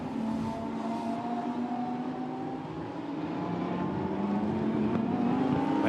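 Lamborghini Super Trofeo race cars accelerate hard at the Nürburgring, a loud sustained engine roar with pitch steadily climbing through the gears as the cars build speed, no voices over it.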